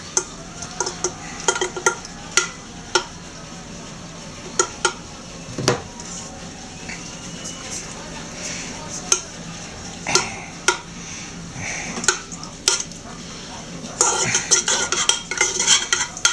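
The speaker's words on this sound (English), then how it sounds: "just want to stir things up a little" A utensil stirs a mixture in a pot to dissolve it while making hamburger buns, producing a string of close, sharp scraping taps against the pot and a faint sizzle-like hiss beneath, with no talking.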